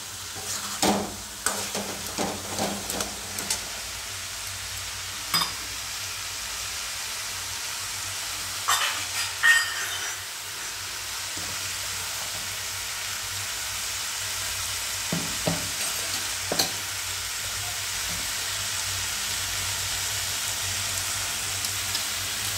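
Sweet corn and tinda curry with masala sizzles quietly in a pan while being stirred, giving soft scattered crackles and occasional scraping taps over a faint steady hiss.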